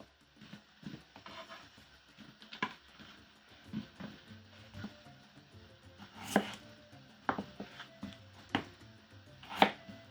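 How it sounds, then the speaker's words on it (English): Potatoes being chopped into bite-size pieces on a board, a series of irregular knife taps, some sharp and louder, others soft, close up with quiet gaps between. "cut them into bite size"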